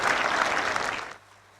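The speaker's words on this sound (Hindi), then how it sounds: "एक बार जोरदार तालियां आप सभी के स्वागत की।" Dense burst of crowd applause, loud and sustained for about a second, then abruptly fading to quiet room noise.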